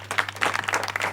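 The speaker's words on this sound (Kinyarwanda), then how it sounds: "Amashyi menshi cyane." A wedding crowd breaks into a short, lively burst of applause, many hands clapping together for about a second.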